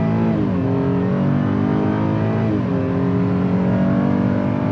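A 2022 Chevy Traverse RS engine revs hard through a 0-to-60 launch, a loud, continuous close-up drone whose pitch climbs, drops briefly at a gear shift, then climbs again.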